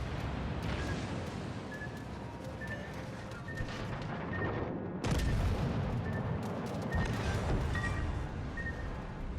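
An enemy destroyer blows up in World of Warships: Legends, a rumbling naval explosion with dense gunfire and booms that swell sharply partway through, over a constant roar of battle.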